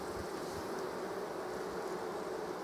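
A steady, even drone of honeybees buzzing around their hive carries on throughout, moderately close and alone, with no talking.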